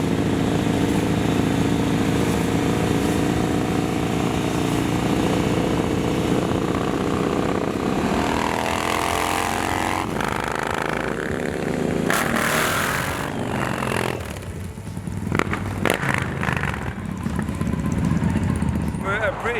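A Triumph Thruxton café racer motorcycle rides through Malibu Canyon, its engine droning loudly and continuously with rising and falling revs as it shifts, mixed with wind rush.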